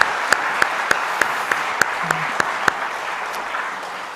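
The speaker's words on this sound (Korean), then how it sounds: "감사의 박수를 돌리시겠습니다" A church congregation claps at a Sunday worship service, with a steady run of evenly spaced claps over a broad wash of crowd noise that fades out toward the end.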